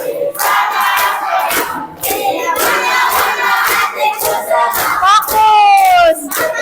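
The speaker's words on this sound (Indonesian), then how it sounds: "kita mulai sambil tepuk tangan" A group claps hands in time with a cheerful children's song about being happy at school. Sharp, regular claps cut through the loud sung voices throughout, with a brief lull near the middle.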